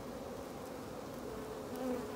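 Honeybees drone steadily and softly on a comb, close by, while a virgin queen attacks a queen cell in the colony.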